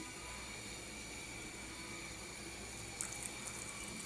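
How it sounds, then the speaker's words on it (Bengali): Hot water pouring into a pot of browned beef: a soft, steady rush, continuous and fairly quiet, with a faint splash partway through. "এখন দিয়ে দিলাম গরম পানি"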